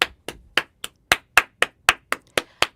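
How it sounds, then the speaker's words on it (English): Two hosts clap together in a steady run of eleven sharp, close hand claps, evenly spaced and each crisp, with nothing else heard around them. "Should we clap it in?"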